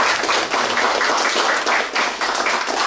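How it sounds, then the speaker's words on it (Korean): A crowd at a book publication ceremony breaks into loud, continuous applause, many hands clapping densely and close, with no speech over it. "일단 홍천영 장님께 다시 한번 큰 박수"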